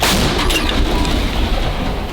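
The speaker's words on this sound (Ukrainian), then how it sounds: "Постріл!" A loud, sustained rumbling blast with a broadband roar that fills the whole clip, a heavy gunshot or artillery fire echoing close by during combat in the battle for Toretsk, Ukraine.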